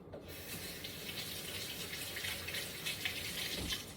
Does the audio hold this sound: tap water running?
yes